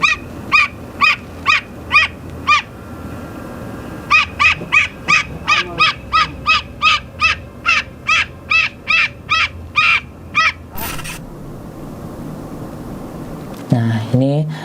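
A bird screaming in a cemetery, loud harsh calls repeated in quick regular bursts, a series of about eight, a pause, then a longer run of about fourteen, followed by quieter background noise.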